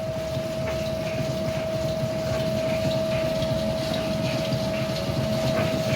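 A wooden cold-press oil mill grinds groundnuts in a continuous low rumbling churn with a steady mechanical whine, running evenly without pause and no voices.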